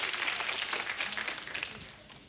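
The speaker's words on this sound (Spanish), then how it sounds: "¡Un aplauso para la joven!" Studio audience applause on a Sábado Gigante game show, a dense wash of clapping that holds steady and then tapers slightly toward the end.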